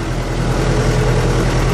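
A Fiat 780 tractor engine runs while back-dragging and grading a dirt track: a loud, steady, low diesel drone close by, with no breaks or voices.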